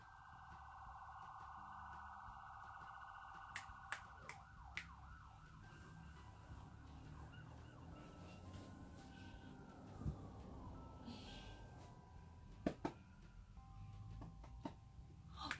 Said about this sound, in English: While the police sirens are making it hard for me to talk.